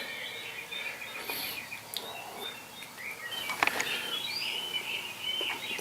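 Faint recorded birdsong played on a model railroad layout, with scattered chirps and short tweets over a quiet background hiss, a few calls sharper than others.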